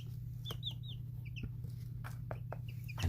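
Silkie, onagadori and ayam cemani chicks in a brooder give soft, high cheeping peeps in short repeated bursts, close by, over a steady low hum.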